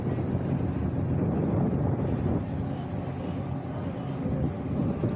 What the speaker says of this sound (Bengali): আর একটা লঞ্চ আসতেছে